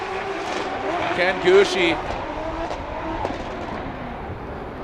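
A Toyota 86 drift car from Greddy Performance on Nexen tires runs a qualifying lap at Formula Drift Long Beach, its engine droning steadily with a brief tire squeal under loud race commentary.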